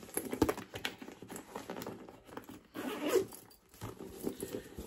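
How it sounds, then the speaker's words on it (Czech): A zipper on a new handbag is unzipped in two or three short ripping strokes. Each pull is close and fairly quiet, with brief handling rustles between them. "Ten zip pokračuje prostě až takhle za tu kabelku, takže vlastně ji můžete pořádně otevřít"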